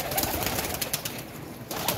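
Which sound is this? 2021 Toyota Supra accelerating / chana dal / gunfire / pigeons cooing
pigeons cooing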